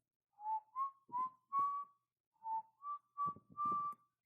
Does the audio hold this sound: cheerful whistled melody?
yes